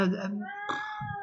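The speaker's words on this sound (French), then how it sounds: "c'est mon chat qui miaule, si vous l'entendez," A domestic cat meows indoors, a couple of drawn-out, wavering meows close by, with no other sound competing.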